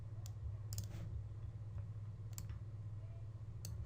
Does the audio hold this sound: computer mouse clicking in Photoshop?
yes